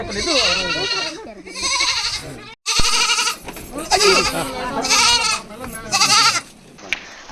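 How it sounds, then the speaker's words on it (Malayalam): Several goats bleat loudly and close by in repeated wavering bursts at a rural home where a goat shed stands, with brief gaps between the calls. "മകളുമായ മറിയ ഉമ്മൻ തുളസിയുടെ വീട്ടിലെത്തി ആടുകളെയും കൂടും കൈമാറി"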